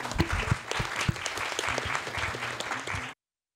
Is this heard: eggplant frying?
no